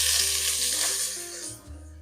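Ginger sizzling in hot oil in a pan with cumin and mustard seeds, a steady close frying hiss with a low hum underneath and no talking.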